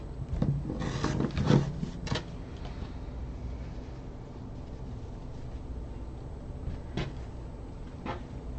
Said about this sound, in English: I'm just going to trim up my messy interfacing here.